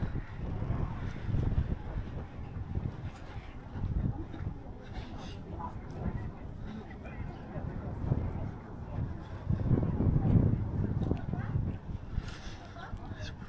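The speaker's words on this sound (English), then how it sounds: "It's windy." Gusty wind buffets the microphone in low rumbling bursts, rising and falling over distant crowd noise and scattered voices outdoors in Drøbak, Norway.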